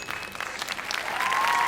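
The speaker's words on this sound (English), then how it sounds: "could I get an applause?" A crowd applauds with dense, steady clapping, building slightly louder toward the end, with a faint whistle above the clapping and no talk.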